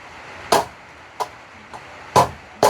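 A hammer striking while a solar panel is being installed, five sharp separate blows at uneven intervals, close and loud over quiet background.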